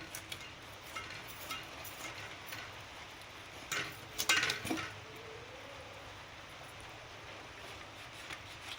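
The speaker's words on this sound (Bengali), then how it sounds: "প্রথমে আমি মোড়োর দিকটা কেটে নিচ্ছি" A knife cuts the head off a fresh, large rohu fish in a village kitchen, giving faint scraping and a short cluster of crisp clinks and knocks from blade on board, with near-silence around.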